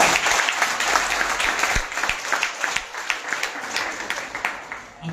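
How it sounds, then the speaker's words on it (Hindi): A crowd at a Hindi kavi sammelan and award ceremony marking the third founding day of Shabdveena bursts into dense, loud applause that slowly thins and fades, with no voices over it. "उसके लिए तालियां तो चाहिए।"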